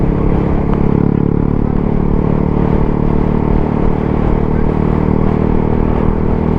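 A motorcycle engine runs loud and close on a ride to a wash bay, holding a steady, dense mechanical drone with a clattering edge and no clear rises or drops throughout.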